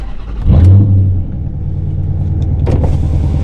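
A Hemi-powered car revs hard with a deep, loud engine roar that surges, then settles into a rumbling idle; a second short rev follows near the end.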